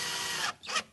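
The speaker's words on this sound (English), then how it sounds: "the quick way to do this is just grab your screw gun" A screw gun whirs as it drives screws to mount a car speaker, one sustained burst followed by a short pause and a second brief spin, up close.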